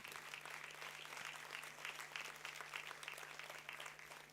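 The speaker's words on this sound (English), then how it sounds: "Bring out the loudest possible applause for Sachintya Mihi Vijayasundara." A crowd at a university convocation ceremony applauds in a steady, dense wash of clapping that holds evenly throughout, with a faint electrical hum beneath.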